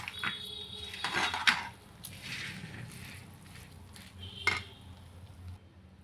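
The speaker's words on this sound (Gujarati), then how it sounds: "તો હવે આપણે ગોળને મિક્સ કરી દઈશું" Jaggery being stirred into a ghee-rich sukhdi mixture in a pan just off the heat: soft scraping strokes, a few metallic clinks of spoon on pan and a faint sizzle, close by and without talk.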